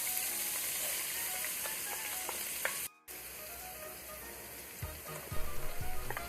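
Garlic goes into a hot pan and fries for a shrimp and chorizo risotto, giving a steady, close sizzle that breaks off for a moment and resumes, with a few soft stirring clinks near the end.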